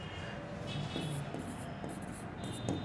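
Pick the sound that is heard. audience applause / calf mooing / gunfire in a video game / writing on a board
writing on a board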